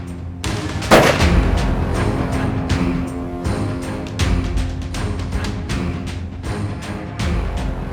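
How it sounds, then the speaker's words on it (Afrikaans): A hunting rifle fires at a rooibok ram in the bush near Vaalwater, one sharp loud crack near the start followed by echoing rumble and outdoor noise. "Hy vat die skoot en net daar val sy bok."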